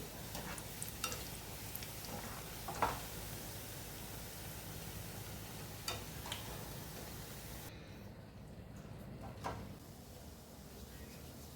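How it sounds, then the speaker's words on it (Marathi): Khoya gulab jamun frying in hot oil, a soft, steady sizzle and hiss with occasional faint pops and light stirring clicks, quiet and close without talk. "मस्त थोडे ब्राऊन कलरलाच गुलाबजाम तळायचे"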